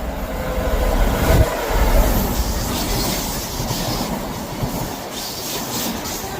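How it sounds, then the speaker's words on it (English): A red train passing through Low Moor railway station, a loud close rumble with rhythmic wheel clatter and rushing air that swells early and then holds steady as the carriages go by. "That is the red train."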